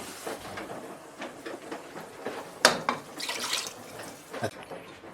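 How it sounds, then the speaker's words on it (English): Water is poured into a pan of butter chicken sauce with canned tomatoes, giving a close, uneven splashing trickle with a few sharper splashes partway through. "And we're gonna add a bit of water on it too."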